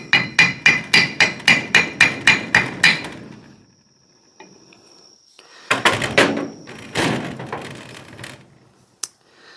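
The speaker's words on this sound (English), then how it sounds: "I'm using a copper hammer, copper mallet, whatever you want to call it, because I don't want to damage the jaws." Copper mallet striking a 1920s Prentiss vise during restoration cleanup: a rapid series of about ten sharp metallic taps, then a pause and a few scattered knocks and clunks, close and loud.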